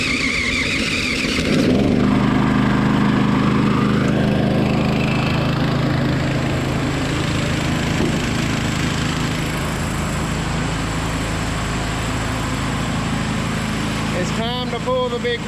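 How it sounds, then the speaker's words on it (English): An electric-start air compressor fires up after a short moment and then runs loudly and steadily up close, its engine drone continuous through to the end. "This is my electric start compressor here."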